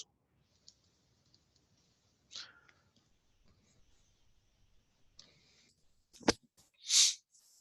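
A computer mouse clicks to save an online grant application form, with a few faint scattered ticks followed by a sharper click and a short breathy rustle, otherwise quiet.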